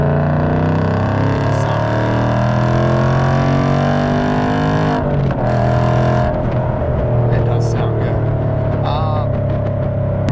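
Ford Mustang Dark Horse with an AWE 3-inch active exhaust in track mode, a loud, close, throaty engine drone that shifts pitch midway as the revs change, then settles into a steady roar.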